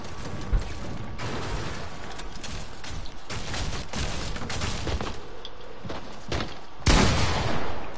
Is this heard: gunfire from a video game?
yes